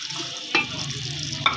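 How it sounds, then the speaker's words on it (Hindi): Garlic and onion frying in ghee for chicken korma, a close crackling sizzle with the scrape and clink of a stirring spoon against the pan, including two sharper metallic scrapes. "ये हम लहसुन और प्याज इकट्ठा इसमें डाल देंगे।"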